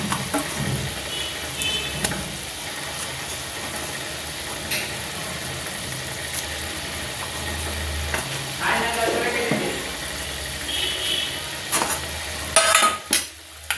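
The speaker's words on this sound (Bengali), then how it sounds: "ফুলকপি সেদ্ধ হয়ে গেছে এবার মাছগুলোকে দিয়ে দেবো" Folui fish going into a pan of simmering cauliflower curry, with a steady bubbling sizzle and stirring throughout and louder clattering bursts of sizzle near the end.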